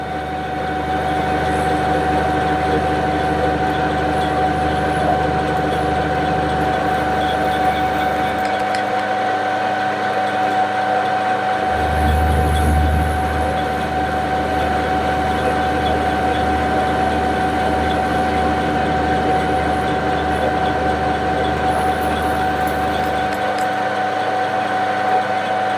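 Lathe turning the corners off a hexagon stock for a valve chest gland in a workshop, a continuous droning machine hum with a steady whine and a low rumble that shifts in tone partway through as the cut changes.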